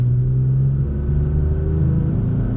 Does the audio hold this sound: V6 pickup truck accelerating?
yes